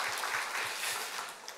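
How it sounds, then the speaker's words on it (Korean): Members of a church congregation clap together at a Sunday worship service. The applause is a soft, steady patter that sounds slightly distant and has no talk over it. "보통 이런 영상이 딱 보고 나면 다 같이 박수를 치는데"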